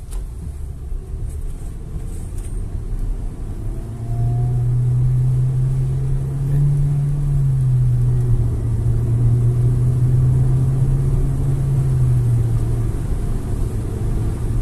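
A hybrid MG EHS accelerating on the road, heard from inside as a low engine hum that swells and holds steady, moderately loud, with a faint whine above and no talk.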